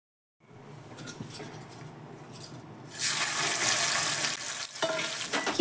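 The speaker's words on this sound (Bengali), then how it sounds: "এখানে আলু ভাজা বানাচ্ছি" Potatoes frying in a pan start with a low, quiet crackle that swells into a loud, close sizzle and hiss about halfway through, then keep sizzling steadily with no voices.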